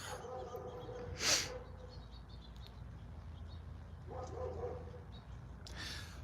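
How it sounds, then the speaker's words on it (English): A dog barks once loudly nearby, with a fainter bark or two later over a low steady background hum. "The dogs are barking."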